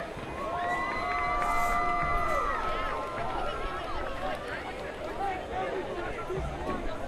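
Crowd at a high school football game between West Springfield and Putnam, a broad, loud cheering and shouting roar that swells and then settles into a steady hubbub, with voices calling throughout.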